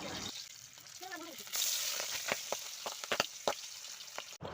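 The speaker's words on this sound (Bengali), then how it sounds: "এখানটায় তোমরা যে একটা পিস দেওয়ার পরেই না আমাকে উঠে পালাতে হয়েছিল, যে এতটা পরিমাণে মাছটা ফাটছিল" Singi fish frying in hot oil, a loud hissing sizzle punctuated by sharp irregular spitting pops and crackles, close by, with a brief voice-like sound early on.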